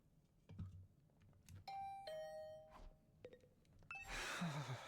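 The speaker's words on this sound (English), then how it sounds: "Hearing the doorbell stubbornly ringing again and again, I finally got up." Electronic doorbell chimes in The Hundred Line: Last Defense Academy, ringing several times in a row with clear tonal dings, followed by a burst of louder noise at the end.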